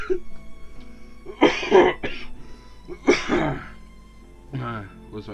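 A man coughs in two loud, rough bursts, then clears his throat more softly, close to the microphone in a quiet room.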